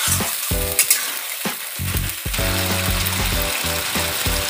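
Spice masala being sautéed in a pan for aloo dum, a steady sizzle with repeated rhythmic spatula scraping and rattling strokes, close and loud, no talk.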